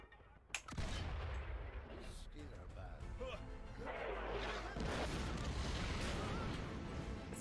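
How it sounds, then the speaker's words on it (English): A deep boom bursts out at the start of a scene in the war video game Valiant Hearts, followed by rumbling gunfire-like blasts and crackle, with a voice talking over the noise throughout. "One explosion."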